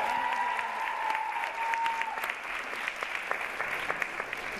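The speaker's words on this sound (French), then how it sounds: "On peut l'applaudir quand même" Audience applause at a Charmed fan convention in Paris, 2014: a steady patter of clapping with a voice heard briefly over it early on.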